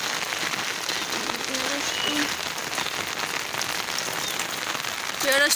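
Heavy rain pours steadily and loudly outdoors where fish are being cleaned, a dense, unbroken hiss of drops hitting surfaces from start to finish, growing a little louder near the end.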